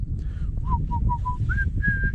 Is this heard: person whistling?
yes